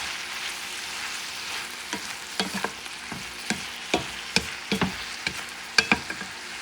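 Tomatoes and peppers sizzling in a pan, a steady soft frying hiss with scattered sharp taps and scrapes of a utensil stirring, close and fairly loud, with no talking.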